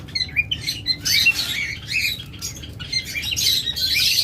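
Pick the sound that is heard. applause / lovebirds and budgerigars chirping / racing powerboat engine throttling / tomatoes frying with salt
lovebirds and budgerigars chirping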